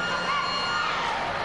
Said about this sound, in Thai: ก็ถือว่าได้รับเสียงกรี๊ดนะครับแล้วก็การให้ความสนใจนะครับจาก แฟนๆวอลเลย์บอลนะครับชาวจังหวัดราชบุรีนะครับ